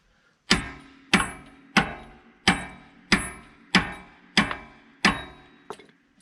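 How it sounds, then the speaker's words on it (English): Nine sharp metallic hammer strikes on a stuck excavator track roller spindle land at an even, steady pace, each ringing briefly before the next blow; the last is lighter. No talking. "Need a bigger hammer."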